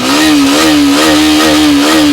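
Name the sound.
Hero Xtreme 125R motorcycle engine running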